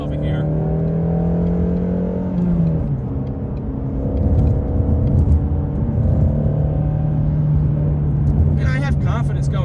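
A Shelby GT350R on new street tires drones steadily from inside the cabin as it moves onto a highway entrance ramp, with a low engine hum, road rumble and a few bumps, while someone talks over it.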